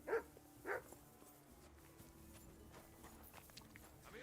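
A dog in the video game Kingdom Come: Deliverance 2 gives two short barks at the start, followed by quiet ambient game sounds and faint footsteps.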